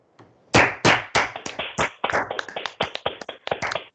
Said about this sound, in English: just to clap and say very well done to everyone who's pitched today and joined the competition